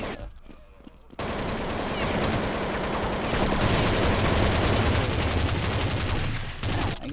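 A minigun in Counter-Strike fires a dense, sustained burst of rapid gunshots after a quieter opening, holding loud and steady for several seconds before tapering briefly near the end.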